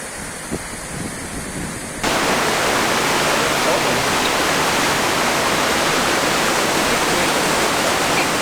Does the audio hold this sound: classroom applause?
no